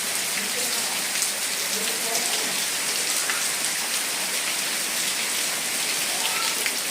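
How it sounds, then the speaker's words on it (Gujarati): Heavy monsoon rain in Mithapur pours down in a dense, constant hiss, drumming steadily on surfaces all around with no letup. "આવો કંઈક વરસાદ આવે છે મિત્રો"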